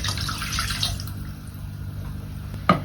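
Water runs from a tap into a pot for a vegetarian bolognese in a home kitchen, a steady close splashing flow with a short knock near the end.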